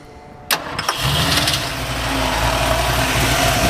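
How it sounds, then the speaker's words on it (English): A starter cranks briefly, then a 1972 Ford Bronco U15 4x4 engine catches and settles into a steady, loud idle close by. "We'll go ahead and fire it up so you can hear it."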